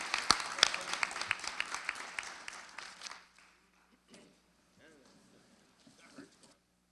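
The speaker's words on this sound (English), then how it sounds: "once again, a round of applause" Families at a school board meeting give a round of applause during a certificate presentation: sharp, distinct claps for about three seconds that stop abruptly, followed by quiet murmuring voices.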